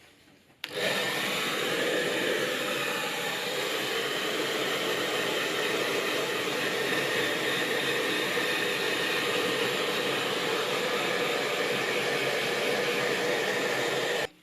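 A hair dryer switching on and blowing steadily to dry paint on an ARRMA Granite Voltage RC car body, a loud, even whooshing roar held close for about fourteen seconds before cutting off.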